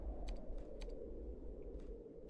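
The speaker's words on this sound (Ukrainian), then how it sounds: "поки він клацає якісь рандомні кнопки на своїй клавіатурі" Computer keyboard keys clicked in irregular bursts, a few quick taps close up over a steady low hum in a quiet room.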